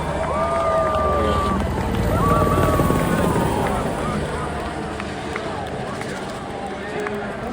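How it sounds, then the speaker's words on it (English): MH-60 Black Hawk helicopters fly over a racetrack, their steady rotor roar and wind rumble filling the air loudly throughout while a voice speaks over it. "flying above the track in MH-60 Black Hawk helicopters"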